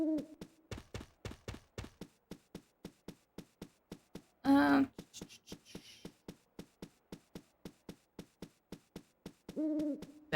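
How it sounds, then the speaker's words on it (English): Owl hooting in the farming video game Harvest Moon: Magical Melody, a steady run of short, evenly spaced hoots repeating for about ten seconds with no music, broken by brief louder in-game sound effects. "Frickin' owl sounds."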